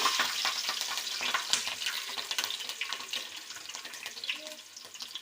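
Chopped green chilies and spices crackle in hot oil for a fish curry, a dense, close spitting sizzle full of sharp pops that eases slightly toward the end.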